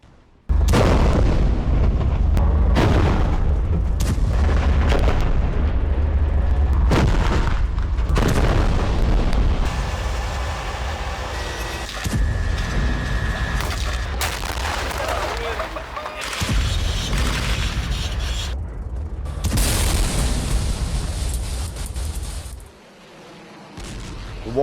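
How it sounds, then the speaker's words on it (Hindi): Tank shelling in Gaza lands as a run of heavy booming explosions, loud and close, with sharp blasts repeating through the opening seconds and fainter rumbling detonations continuing afterward. "बड़े बड़े टैंक कुछ इसी तरह हमास के ठिकानों पर गोले बरसा रहे हैं"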